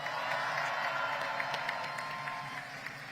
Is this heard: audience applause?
yes